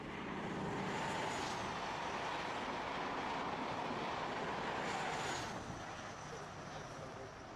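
Trains running on a British heritage steam railway, a steady, broad rumble of moving carriages with faint high whistle-like tones, continuous and fairly distant.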